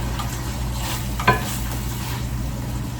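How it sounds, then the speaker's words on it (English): A pot of white bean meal simmering on the stove gives a soft, steady bubbling hiss close by, with one brief clink or stir partway through and no voices. "Now, let this simmer a little bit more."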